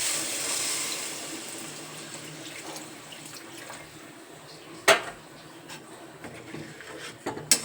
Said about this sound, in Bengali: এর মধ্যে এবারে আমি জল অ্যাড করে দিচ্ছি।